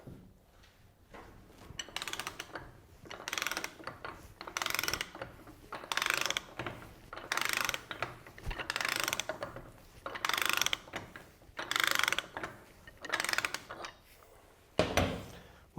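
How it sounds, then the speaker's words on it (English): A bar and socket ratchet undoes the steering gear nut at the pitman arm, producing close, loud bursts of ratcheting clicks in a steady back-and-forth rhythm with short pauses between strokes. "Using a suitable bar and socket, you can now remove the nut."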